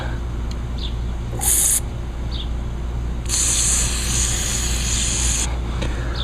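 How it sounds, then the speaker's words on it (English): Cleaner sprayed into a carburetor passageway from a Mantis tiller: two hissing bursts, a short one and then a longer one lasting about two seconds, close up over a steady low background hum. "we'll just keep on just spraying doing all this"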